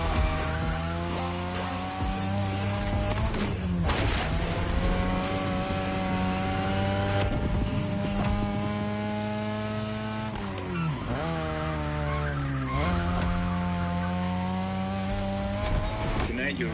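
A 2002 third-generation Mazda RX-7 with a rotary engine races in a video game, its loud, steady engine note rising and falling through gear changes with tire squeal and skidding, running continuously with a brief dip midway.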